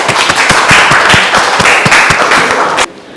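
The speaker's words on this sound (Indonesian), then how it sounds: "Beri tepuk tangan dulu" A classroom group applauding after their presentation, with dense, loud, close clapping that continues steadily for nearly three seconds and then stops abruptly.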